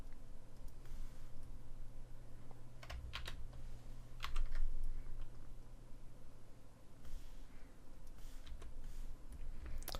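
Computer keyboard keys pressed while working in ZBrush modelling software, with scattered clicks and short bursts of typing over a steady low hum, close and moderately quiet.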